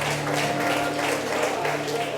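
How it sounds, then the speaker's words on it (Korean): Church congregation at a service appointing officers claps in a steady burst of applause over a low sustained hum, with some background voices. "인사 힘찬 박수 해주시고 회장하실 때 큰 박수로 축복해 주시기 바랍니다"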